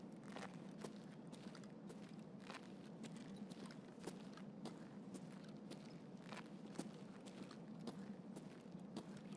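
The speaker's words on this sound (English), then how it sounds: "I heard a footstep." Quiet, steady footsteps in a hardcore survival video game, a regular series of soft crunching steps repeating evenly and faintly with no talk.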